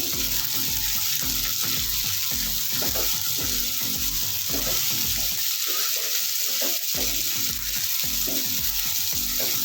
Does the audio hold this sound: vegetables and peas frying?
yes